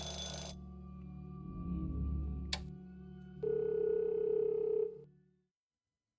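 A telephone ring comes through as a steady electronic tone held for about a second and a half over a low background hum, then stops, leaving silence.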